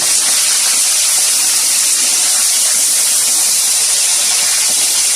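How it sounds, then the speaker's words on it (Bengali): Chicken seasoned with salt and turmeric fries in a pan, a loud continuous hiss and sizzle with no talk. "এবারে আমি চিকেনটা ভাজবো।"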